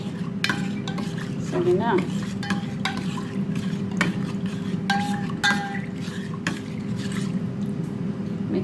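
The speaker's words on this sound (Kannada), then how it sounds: "ಆಮೇಲೆ ಇದನ್ನು ಒಂದು ಫುಲ್ ಮಿಕ್ಸ್ ಮಾಡ್ಕೊಂಬಿಡೋಣ ಇಲ್ಲಿ" A spoon stirs lemon rasam spices and salt in a pot, making close metallic scrapes and clinks over a low steady sizzle, with a brief spoken question partway through.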